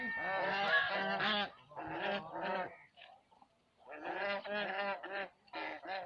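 A dragon duck kept at a desert camp in Cholistan gives loud, nasal honking calls in several close bursts, with short pauses between them.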